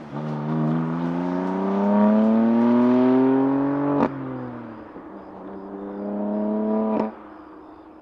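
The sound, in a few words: BMW M2 Competition stock exhaust engine noise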